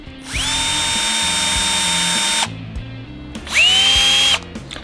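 A Bosch GSB 120LI cordless drill runs at full speed in two bursts, first clockwise for about two seconds, then briefly counter-clockwise, each spinning up to a loud, steady high whine and cutting off, with small clicks of the switch between.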